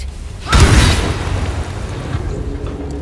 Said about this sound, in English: So, Booming Blade.